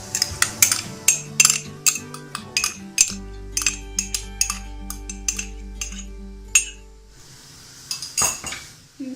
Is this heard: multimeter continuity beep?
no